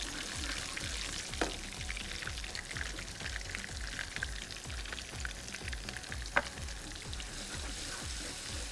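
Onions fry in a hot pan while chicken shashlik is cooked, a steady dense sizzle with rapid crackling pops and a couple of sharper clinks, no voices.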